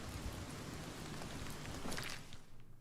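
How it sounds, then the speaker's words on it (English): Steady rain in the video game Oblivion Remastered, a constant broadband hiss of falling drops that keeps going at an even level throughout, with a brief brighter patch of spatter near the end. "why would the sound of rain stop just because I went inside?"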